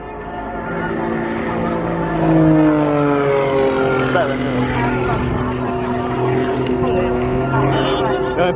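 Aerobatic modified biplane at the Eastbourne Airshow, its propeller engine droning steadily with rising and falling pitch as it climbs and descends, fairly loud and distant-sounding, with commentary talk over it.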